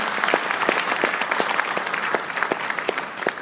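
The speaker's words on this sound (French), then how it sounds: "je souhaite que les premiers applaudissements soient dédiés à vous" Steady applause from a crowd, dense clapping with a few sharper individual claps standing out, continuing throughout.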